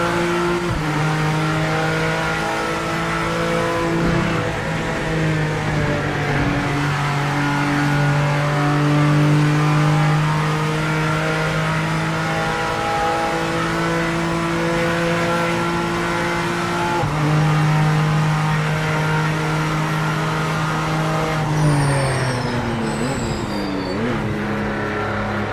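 A race car engine in the Project Motor Racing sim revs hard and steadily with the pit limiter off, climbing through gears with shifts and brief dips. It is loud and continuous, with tire noise near the end and no speech.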